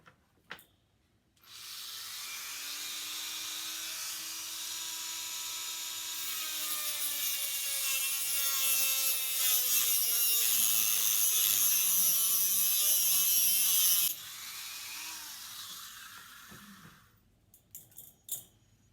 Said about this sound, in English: I used a little mini grinder on my Dremel tool